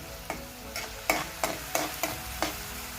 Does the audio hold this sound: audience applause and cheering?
no